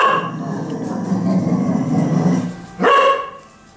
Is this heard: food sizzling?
no